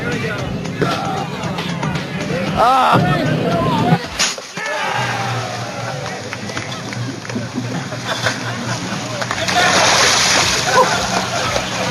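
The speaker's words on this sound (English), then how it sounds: "Dunk tank, total benefit for the EFF, trying to raise some cash" A person drops into a cold, scummy dunk tank at an outdoor charity fundraiser, a loud splash and slosh of water amid crowd noise and talking, with churning water continuing afterward.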